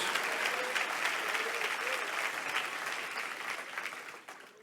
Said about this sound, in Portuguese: Você consegue aplaudir o nome do Senhor essa manhã?